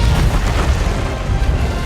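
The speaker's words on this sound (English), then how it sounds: "the Great Hog gets blown up in the explosion" A loud, rumbling blast with deep low-end roar and crackling debris tears through the scene as the Great Hog is blown up by creepers in A Minecraft Movie, sustained for nearly two seconds before cutting off abruptly.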